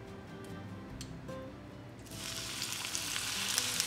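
Panko-coated crab cakes fry in hot oil with a soft, steady bubbling that swells into a brighter, louder hissing sizzle partway through, heard close up with no talking.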